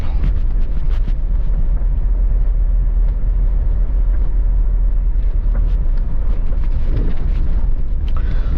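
A car drives at night along an unlit countryside road in Burnt Savanna, St. Elizabeth, Jamaica, its steady engine and tyre rumble loud and continuous throughout, with no talking.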